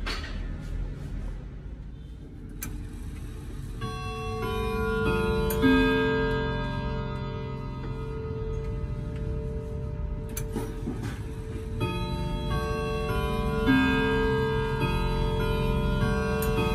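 A 1970 Ridgeway model 335 grandfather clock, a Curio with twelve chime rods and twelve hammers, rings out a full melodic chime sequence over its steady mechanical ticking, close and resonant, with the tones sustaining and overlapping.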